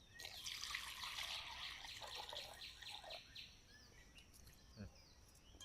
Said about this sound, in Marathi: चिकन पण 1-2 पाण्याने धुवून घ्यायचं आहे.